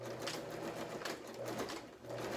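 A sewing machine stitches a fabric face mask with a steady, fast mechanical whir and a low hum throughout. It is close but quiet, with no talk over it.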